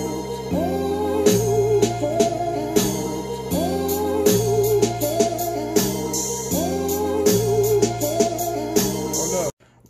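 Programmed hip-hop beat, with snares, hi-hats and cymbals looping steadily over sustained melodic parts, loud and continuous until a sudden cut just before the end.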